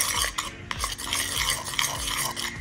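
A skin care product is mixed in a container, with rapid rhythmic scraping and clinking of a utensil against the vessel, close and moderately loud, with no talking.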